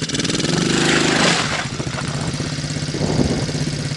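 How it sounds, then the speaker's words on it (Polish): A motorcycle engine revs up briefly with a light twist of the throttle, then drops back to a steady, rough idle close by. "Tu lekko dajesz gazu, patrz."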